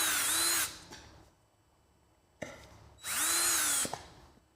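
Power drill running in two loud, close bursts that each spin up to a high whine and then wind down, separated by a quiet pause with a single sharp click.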